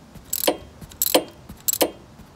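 Three quick ratcheting bursts from a socket wrench tightening the pipe-threaded oil drain plug on a 2003 Harley-Davidson Road King, close up and crisp, evenly spaced with short pauses between.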